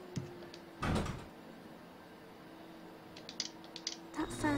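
A machine mechanism in the video game Ether One activates with a single loud clunk, followed by quiet ambience and a few faint metallic clicks and rattles near the end.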